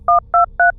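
Three quick, evenly spaced telephone keypad tones dialing 911, each a short, loud, clean dual-pitch beep, heard alone over a faint low hum.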